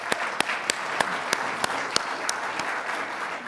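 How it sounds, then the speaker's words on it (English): An audience at a tribal nations summit gives a round of applause, a steady wash of many hands clapping at moderate distance, with a few sharper individual claps standing out regularly. "Let's give her a round of applause"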